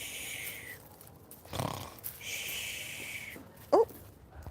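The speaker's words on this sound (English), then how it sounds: "Snore one more time." A person gives a single rough, snorting snore on request outdoors, a short low burst amid quiet background noise, followed later by a brief sharp chirp.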